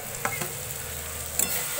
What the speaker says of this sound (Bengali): ডিম ভাজা।